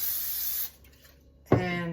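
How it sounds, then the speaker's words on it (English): Nonstick cooking spray hisses into an air fryer in one short, close burst that cuts off abruptly, followed by a pause and a brief voice at the end. "give it another spray"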